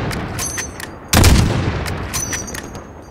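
A sniper rifle in Call of Duty: Modern Warfare fires one sharp, loud gunshot with a booming tail over steady background battle noise and faint distant pops.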